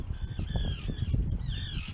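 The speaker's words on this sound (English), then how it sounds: "Harbor's full of birds." Seabirds squawk and call in a busy small boat harbor, with overlapping harsh, wavering cries over low wind and water rumble.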